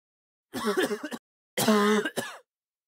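Two short bursts of harsh, throaty coughing close by, the second longer and rougher, separated by a brief pause.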